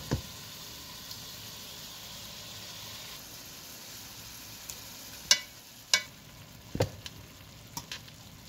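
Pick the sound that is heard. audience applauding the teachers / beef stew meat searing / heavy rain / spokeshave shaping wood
beef stew meat searing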